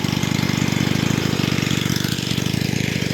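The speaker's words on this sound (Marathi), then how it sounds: "हे बघा इकडे पाण्याचे मोटार आहे ते चालू केलेली आहे" A water pump motor draws river water to irrigate a garden in a Konkan village, running with a steady rapid low-pitched thrum, close and continuous, with no voices.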